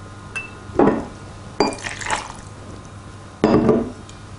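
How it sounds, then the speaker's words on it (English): Spiced rum is poured into a glass quarter-filled with crushed ice, heard as three short splashing, clinking bursts close up in a quiet room. "Next, pour 25 millilitres of spiced rum."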